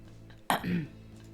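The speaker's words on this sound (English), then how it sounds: "I clear my throat." A single sharp throat clear bursts out loud and close over a quiet background, followed by a short voiced rumble as the throat settles before speech.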